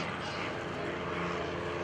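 An L-3 liaison airplane drones steadily overhead at an airshow, a continuous propeller-engine hum holding at moderate loudness throughout.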